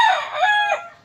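A loud, close crow from an imported-breed rooster, seven months old, rises and falls through one strained, harmonic call that fades out at the end.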